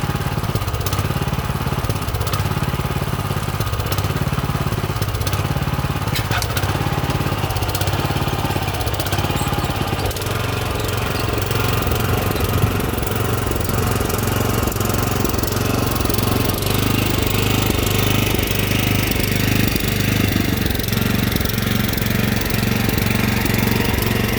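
A water pump engine runs nonstop while plants are watered in a garden, a loud, close, rough motor drone with a rapid chugging pulse that carries on for the whole stretch without talk.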